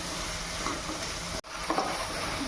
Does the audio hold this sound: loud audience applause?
no